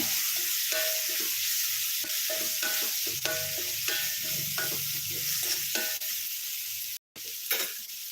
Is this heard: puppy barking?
no